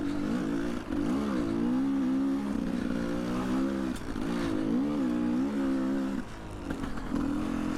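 A motorcycle engine runs close by, droning in several rising and falling revs with short dips between them, loud and gritty with a metallic clatter underneath.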